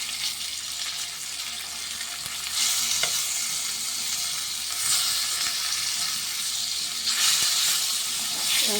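Hilsa fish pieces frying lightly in hot oil, a loud continuous sizzle that swells as pieces go in, close and steady without voices.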